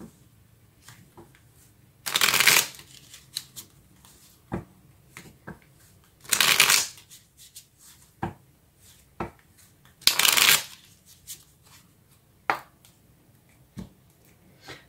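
Tarot cards being shuffled close up, three loud riffling bursts spaced a few seconds apart with soft taps and card handling between them.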